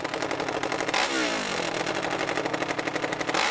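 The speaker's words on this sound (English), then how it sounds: "You can hear these machines wailing as he takes a wheelie up over the top" Hillclimb racing motorcycles, including a Kawasaki, wail at an AMA Pro Hillclimb in Muskegon, with loud rapid engine pulses and a high revving whine that rises and falls throughout as a bike climbs and wheelies over the top.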